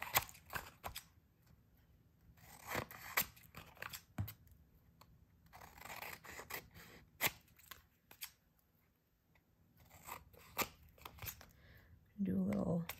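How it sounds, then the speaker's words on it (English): Scissors trim around the edges of a paper journal card, a series of close, crisp snipping and rustling bursts with short pauses between, with a faint voice and some handling noise toward the end. "So now I'm just going to trim around."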